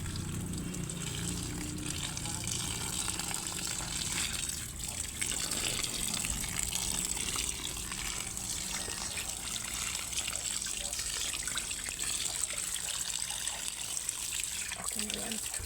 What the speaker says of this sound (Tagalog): Hugasan natin ulit.